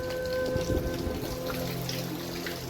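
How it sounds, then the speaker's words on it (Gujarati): Heavy unseasonal rain pours down on a farm, a steady close patter of drops striking surfaces with a few louder splashes, continuous throughout with no talking. "આ સૌથી વધારે વધારે વરસાદ માવઠાનો આજનો"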